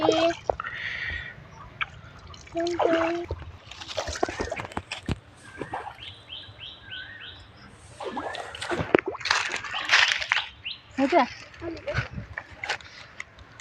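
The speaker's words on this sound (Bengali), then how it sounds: "তাহলে আমি প্রথম পুকুরের জলে নেমে খেলা করছি।" Water splashes and sloshes in a village pond as someone wades in and plays, with irregular bursts of splashing and dripping, close by and mixed with voices talking.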